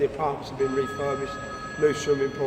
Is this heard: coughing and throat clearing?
no